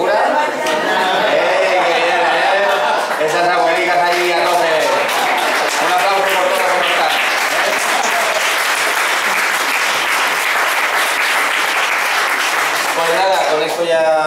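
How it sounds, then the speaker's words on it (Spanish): An audience at a science and spirituality congress applauds steadily for around fourteen seconds, a thick wash of clapping with voices, chatter and some laughter mixed in throughout. "Un aplauso."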